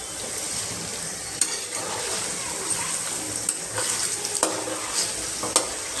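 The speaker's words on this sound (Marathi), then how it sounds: "आता आपण फास्ट गॅसवरच हे छान असं परतून घेऊया" Chicken chilli stir-fries over high flame: a loud, steady sizzle with a spatula scraping and occasional clanks against the pan, close up, and no talk.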